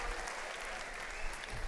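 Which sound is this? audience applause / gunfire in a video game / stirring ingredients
audience applause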